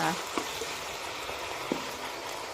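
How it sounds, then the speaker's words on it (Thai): King oyster mushrooms stir-fry in a pan for a vegetarian basil dish, giving a steady, dense sizzle with a few soft clinks of the spatula. "ผัดให้เห็ดเราเริ่มนิ่มหน่อยนะคะ"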